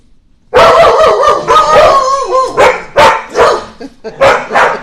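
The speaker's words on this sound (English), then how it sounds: "But unfortunately, dogs bark." Several dogs bark loudly and close together at a pet boarding facility in Waterford, a dense overlapping chorus of barks and yips with brief pauses between bursts.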